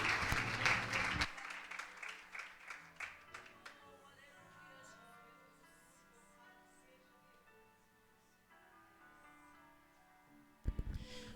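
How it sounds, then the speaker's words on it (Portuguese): A congregation at a women's church service claps briefly, the applause fading quickly into soft tones and quiet, with a short burst of noise at the end. "Aplaudam ao Senhor, aplaudam o mais que você puder a esse Deus lindo"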